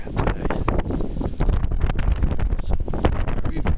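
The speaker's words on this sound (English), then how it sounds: "It's very, very windy." Strong, gusting wind buffets the microphone at a hunter's tree stand, a loud continuous roar and rumble with rustling surges throughout.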